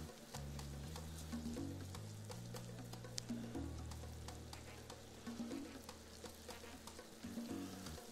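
Food sautés in a pan, a steady crackling sizzle throughout while a low tonal hum sits underneath.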